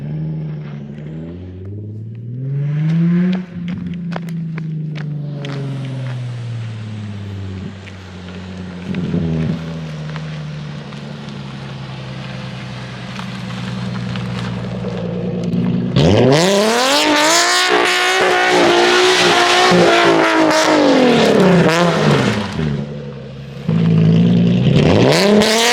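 A straight-piped Nissan 350Z drifting, its engine revving up and down in loud sweeping surges, with a harsh blast of tire squeal and screaming exhaust later on.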